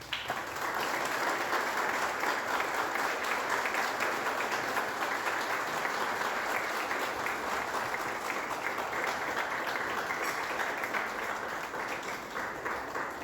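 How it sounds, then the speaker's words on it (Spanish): An audience applauds for Lucely García de Montoya at a memorial event, a dense, steady wash of many hands clapping that holds evenly throughout without talk. "yo les pido un aplauso para Lucely."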